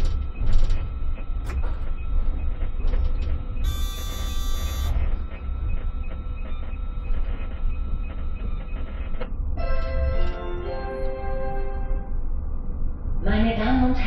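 A TW 6000 light rail train sits at its terminus by the exhibition grounds, with a steady low mechanical rumble throughout, broken by several bright electronic chime and buzzer tones, heard close from the driver's cab.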